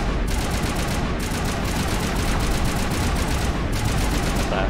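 Rapid automatic gunfire crackles in bursts during a firefight in the video game Mass Effect, dense and loud with short pauses between volleys.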